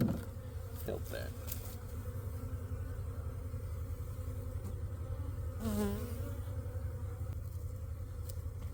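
Honey bees buzzing around an opened hive box, a faint, continuous drone with a few brief louder passes nearby.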